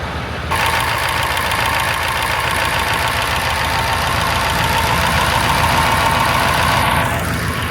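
A new tractor's Cummins 903 diesel engine starts up and runs, a loud, close, steady mechanical drone with a knocking texture holding evenly before trailing off at the end.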